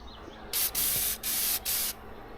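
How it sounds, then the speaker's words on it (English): Four loud bursts of Fluid Film aerosol spray hissing close by on a wood chipper during maintenance, separated by brief pauses, with no talking. "I'm just gonna spray fluid film."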